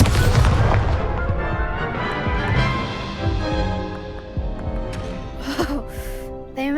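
Incendio fire spell cast in the video game Hogwarts Legacy, a heavy booming burst followed by crackling impacts and a lingering rumble amid other game effects, loud and close.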